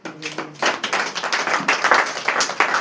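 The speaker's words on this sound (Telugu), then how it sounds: "చప్పట్లు కొట్టండి" Church congregation clapping hands during a Telugu service, a dense run of quick claps building after a brief pause and continuing steadily at close range, with no voices over it.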